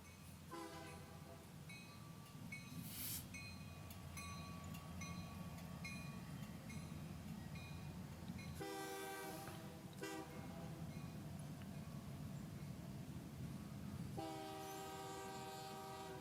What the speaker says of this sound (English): We just have like this train going by.